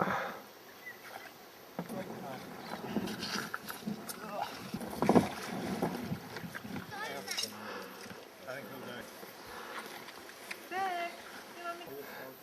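Paddles splash and dip in water as twelve canoes move along the Whanganui River, with people talking and calling out nearby over the steady outdoor background.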